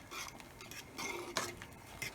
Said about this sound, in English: So you just want to give it a nice stir